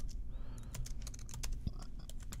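Keys clatter on a computer keyboard as a note is typed, quick irregular clicks at moderate volume over a faint background hum.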